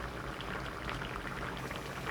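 Water with a piece of kelp bubbles at a boil in a pot, a soft, steady simmering crackle, quiet and continuous with no voices.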